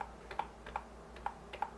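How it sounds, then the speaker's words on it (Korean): Arrow keys on a computer keyboard are pressed in a quick series of about five sharp, close clicks, spaced fairly evenly over a quiet room. "키보드의 화살표를 눌러볼게요"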